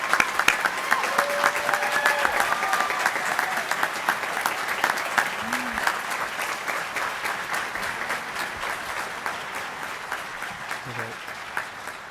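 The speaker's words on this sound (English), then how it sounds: "let's give these veterans a nice round of applause for their service to their country" An audience at a technical institute graduation gives a sustained round of applause for veteran graduates, steady crowded clapping throughout with a few faint voices and a brief whistle-like tone mixed in.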